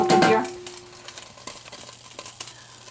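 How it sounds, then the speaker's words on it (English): Two cloves of garlic sizzle gently in extra virgin olive oil in a pot, opening with a brief stirring clatter before settling into soft, crackly frying with scattered pops. "2 tablespoons of extra virgin olive oil in the pot with 2 cloves of garlic. See the garlic cooking here?"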